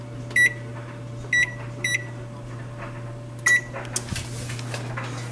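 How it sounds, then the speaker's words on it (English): An oven set to preheat at 400 gives four short electronic beeps in a loose series over a steady appliance hum, with a light clatter after the last beep and no speech. "Preheat oven for 400."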